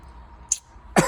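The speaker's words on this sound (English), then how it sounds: "I have a really bad cough" A man with a bad cough, working on a car, coughs sharply twice at close range, the second burst louder and rougher.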